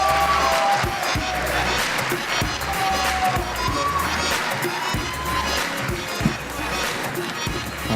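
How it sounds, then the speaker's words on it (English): Wedding reception guests applauding and cheering in a hall, dense clapping with shouts and whoops over a pulsing low bass beat of background music, sustained and loud throughout. "One more time, a big round of applause, please."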